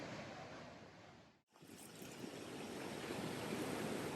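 Ocean waves wash steadily onto a beach in Portland, Jamaica, a continuous broadband roar of surf with wind buffeting the microphone, briefly cutting out near the start before resuming at full strength.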